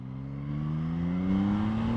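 Yamaha MT-09 SP motorcycle engine from 2021 revving, a steady close engine tone that rises gradually in pitch over two seconds, with no talk over it.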